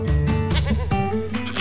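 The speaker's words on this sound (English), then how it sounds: "Do you know what sound makes a goat?" A goat bleats loudly in a short, wavering cry that rises and falls, then repeats briefly, heard up close and alone with no talking.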